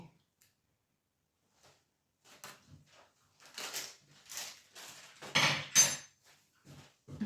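A spoon stirs batter in a bowl for a rolled sponge cake, making irregular clinks and scrapes against the bowl that start sparse and grow louder and busier toward the end, with no talking.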